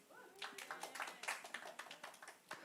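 Scattered clapping from a small group during a Sunday afternoon church service, a quick run of distinct claps that stays fairly faint.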